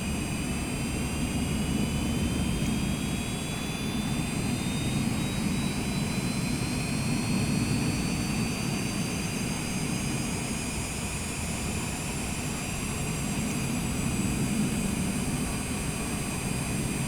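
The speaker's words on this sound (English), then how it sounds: "Starting engine number 1." A Cessna Citation Longitude jet engine spools up in Microsoft Flight Simulator 2024, a steady, loud roar with a whine rising slowly in pitch throughout, and no voices.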